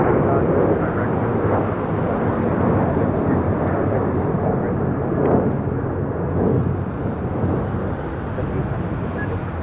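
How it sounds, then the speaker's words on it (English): A United Airlines Boeing 737-900ER takes off at LAX, its jet engines producing a loud, broad, steady roar that fades slightly toward the end, with faint voices underneath. "This is United Airlines 1278 taking off to Cancun on a 737-900ER."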